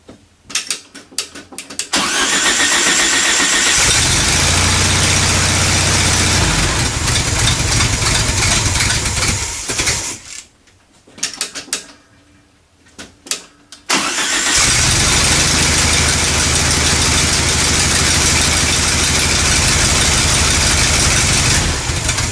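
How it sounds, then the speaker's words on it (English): A VW Beetle engine idles loudly and steadily after a carburetor adjustment, cutting out briefly midway with a few sputtering bursts before running again at a constant close, even drone. "I can kind of adjust the carburetor a little bit, get the idle good"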